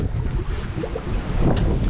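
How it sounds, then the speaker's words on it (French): Wind blows across a boat lying at anchor with a taut anchor chain, a continuous low rumbling buffet close to the microphone with gusty swells and no voices. "Bon là on a un petit peu de vent là."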